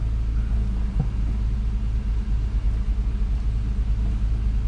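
A 1973 Citroën SM coupe engine idles with a steady low rumble, rising slightly as it revs up a little, smooth and fairly quiet throughout.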